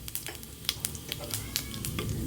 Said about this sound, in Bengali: জিরেটা একটু নেড়ে চেড়ে নেব।